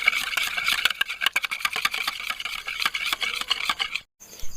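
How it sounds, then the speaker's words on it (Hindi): Whisk beating 300 grams of yogurt in a bowl, rapid rhythmic clicking and scraping strokes close up, continuing steadily before a brief pause. "अब एक बाउल में मैंने 300 ग्राम दही लिया है। इसको अच्छी तरह से फेंट लेती हूँ।"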